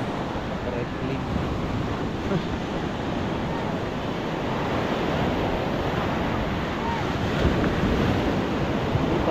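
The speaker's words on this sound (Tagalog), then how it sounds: "Tunog ng dagat." Rough sea surf rolls in continuously with strong wind buffeting the microphone, waves churning loudly and steadily throughout, with brief voices in the background.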